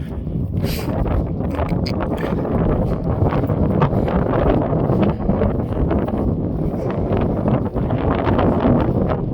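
Cold wind buffets a microphone outdoors, a loud continuous rumbling roar with gusty crackles throughout, no voices heard.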